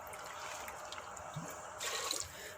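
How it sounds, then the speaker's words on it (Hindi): Water poured into a pot of browned masoor lentils with peas, a soft wet splashing that swells louder near the end over a steady low kitchen hiss, no voices. "दो से 3 मिनट भूनने के बाद इसमें पानी ऐड कर देते हैं।"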